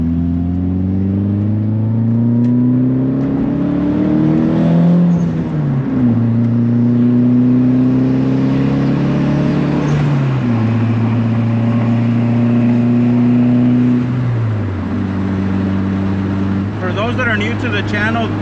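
A car with a custom short-throw shifter accelerates hard onto a highway, its engine pitch climbing steadily through the gears with distinct drops at each shift, loud and close from inside the cabin.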